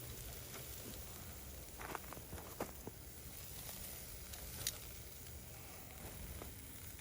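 Steak sizzles over a hot flame on a Fox Outfitters portable grill, giving a faint, steady hiss with scattered light pops and crackles throughout and no voices.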